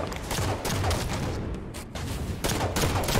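Dense, continuous bursts of automatic gunfire and explosions from a Halo 5 Slayer multiplayer match, loud and sustained with no talking.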